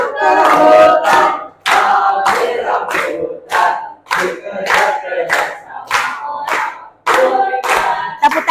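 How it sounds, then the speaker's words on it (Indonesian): A class claps their hands together in loud, rhythmic bursts separated by short pauses, with a crowd of voices joining in between the claps. "tepuk tangan dulu untuk kita."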